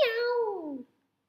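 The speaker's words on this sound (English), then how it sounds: "Do you know the sound cats make?" A single drawn-out meow, bright and close, falling in pitch and fading out after under a second.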